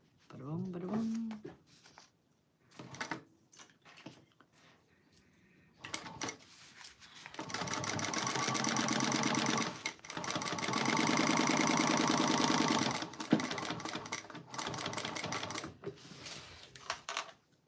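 A sewing machine stitches across the top of a fabric bag in long steady runs with brief pauses between, loud and close, with talk at the start.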